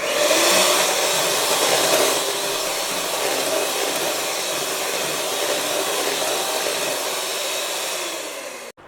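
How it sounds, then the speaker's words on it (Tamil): An electric hand mixer whirs steadily at its lowest speed through brownie batter for several seconds, a loud and close continuous drone that stops abruptly at the end. "இதுவும் 1 ஸ்பீடில் ஒரு 10 செகண்ட் பீட் பண்ணால் போதும்."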